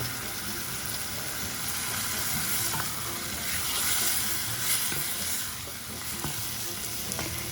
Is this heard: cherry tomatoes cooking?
yes